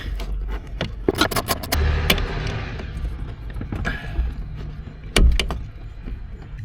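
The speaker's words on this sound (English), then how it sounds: "Start sliding bolts in." Bolts slide and clink into a GPS receiver mount inside a tractor cab. Quick metallic taps and clatters come in bursts over a steady low rumble, and one louder knock lands near the end.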